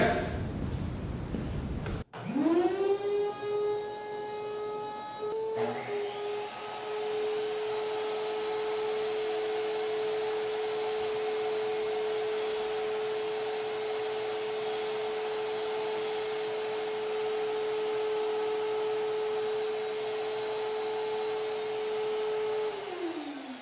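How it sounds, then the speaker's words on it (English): A shop vacuum in a woodworking workshop starts up with a rising whine and then runs loud and steady for about twenty seconds before winding down at the end. "turn on the vacuum"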